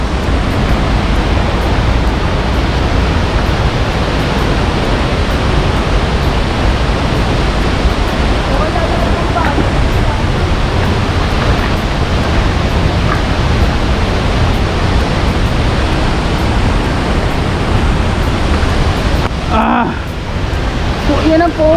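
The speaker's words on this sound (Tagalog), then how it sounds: "So, yan ang falls mismo" Bagongbong Falls in Biliran roars as a steady, loud, dense rush of falling water that completely fills the scene.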